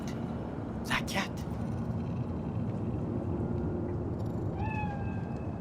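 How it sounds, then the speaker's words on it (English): A cat in the video game Cyberpunk 2077 gives a couple of short meows over a steady low city hum, with a brief rising chirp near the end; a voice speaks faintly in the mix. "Fine-looking feline."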